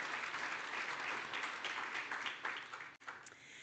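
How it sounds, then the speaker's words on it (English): A conference audience at the Namibia Oil and Gas Conference 2025 applauds the event's media partners, a full, steady wash of many hands clapping that drops off sharply near the end, leaving a few scattered claps. "Let's give them all a round of applause."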